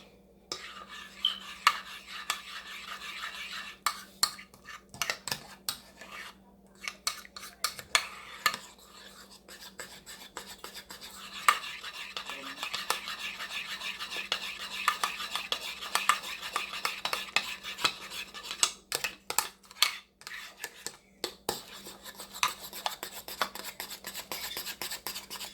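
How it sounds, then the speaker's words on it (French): A soap mixture with olive oil is stirred in a bowl, making continuous close scraping and rubbing with quick clinks of a utensil against the sides. It runs steadily for a long stretch, with short pauses here and there. "Et nous allons bien mélanger le tout."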